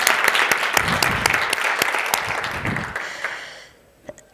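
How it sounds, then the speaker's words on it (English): An audience at a women-in-motorsport industry event breaks into loud sustained applause, dense clapping that fades out over a few seconds before a final sharp knock. "let's give ourselves all a round of applause"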